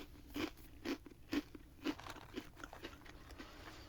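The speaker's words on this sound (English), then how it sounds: "Crunchy cereal puffs with a sweet chocolate cream inside." Crunchy chocolate cream-filled wheat cereal puffs bitten and chewed close to the mic, with about five crisp, evenly spaced crunches followed by softer chewing, quiet and intimate.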